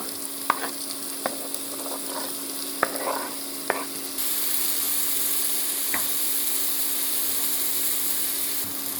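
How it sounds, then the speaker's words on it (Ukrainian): Sliced zucchini frying in a pan, added after carrots: a steady hiss of sizzling with a few sharp clicks and stirring scrapes early on, the sizzle growing louder and fuller partway through. "І додаю нарізані кабачки. Вони повинні пустити сік."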